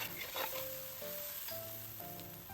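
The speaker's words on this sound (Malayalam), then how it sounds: "പച്ചമുളക് നല്ലോണം ഒന്ന് വയറ്റി കൊടുക്കാം" Green chillies sauté in oil with tomato for a chicken curry, giving a soft, even sizzling hiss with faint stirring, fairly quiet and close throughout.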